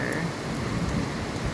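Heavy rain pours down during a Hong Kong yellow rain warning, a dense continuous hiss of falling water heard close and steady over a short moment.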